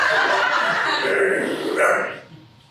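Several dogs bark and yip together at a dog park, a dense, loud, continuous jumble of barks up close that tapers off toward the end.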